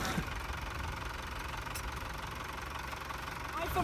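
A Volvo Penta TMD 22 marine diesel running after a timing belt and water pump replacement, a steady rough idle with knocking rumble, continuous and moderately close.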